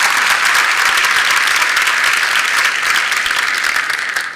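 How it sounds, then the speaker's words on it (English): A round of applause at a high school athletics signing day, steady and loud from a full crowd, sustained throughout and fading slightly at the end. "I think that's worth a round of applause."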